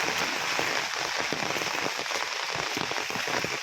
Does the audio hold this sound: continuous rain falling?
yes